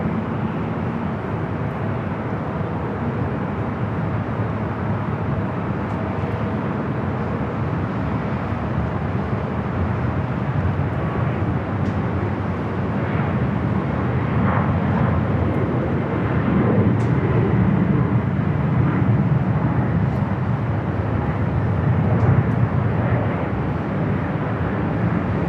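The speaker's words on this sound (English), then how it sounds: "This is the flight coming in from Anchorage." Steady broad engine rumble from an arriving airliner on the flight from Anchorage, distant and continuous, swelling slightly toward the end, with no talk.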